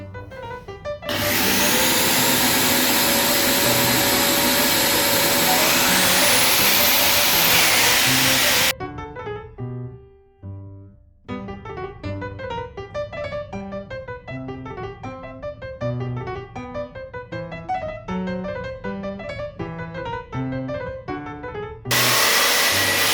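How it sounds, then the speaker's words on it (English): Vacuum cleaner running loud and steady over a dusty kitchen floor, cutting out briefly midway, with rhythmic bumping and knocking during the pause before the motor roars back on near the end. "we do actually have the vacuum that we bought especially to help in situations like this"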